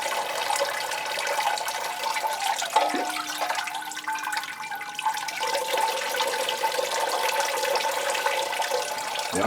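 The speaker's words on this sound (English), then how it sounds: "Lots of water going down through the pot." Water poured from a watering can gushes steadily through a plant pot, a continuous splashing and trickling flow that stays close and even throughout.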